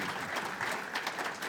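A conference audience applauds a man named Daniel being introduced, a brief dense patter of many hands clapping, steady and moderately loud from start to end.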